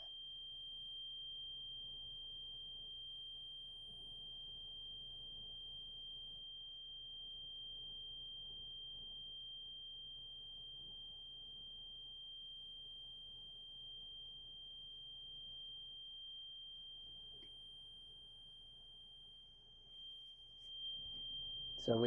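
A steady high-pitched warning buzzer drones continuously from a 2024 Dutch Star motorhome as its leveling jacks retract, faint and unbroken, with soft background noise, then stops abruptly near the end with a brief clunk.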